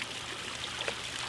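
A soft, continuous watery splashing and trickling fills the scene at low volume, with no voices over it.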